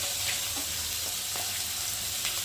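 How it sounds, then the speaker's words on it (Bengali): Spices sizzle steadily in a hot pan with green chili and tomato, a continuous close frying hiss with a few soft stirring scrapes. "মশলাটা ভালো করে কষিয়ে নেব"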